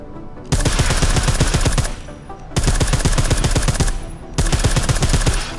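Silenced gunfire in the video game Deus Ex: Mankind Divided, three loud sustained bursts of rapid automatic shots, each lasting one to two seconds with short gaps between, no talking.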